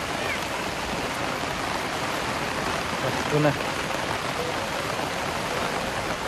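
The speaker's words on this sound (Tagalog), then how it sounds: "malakas na yung ulan" Heavy rain pours steadily as a dense, constant roar on a trip near a flooding river, with a brief voice rising over it midway.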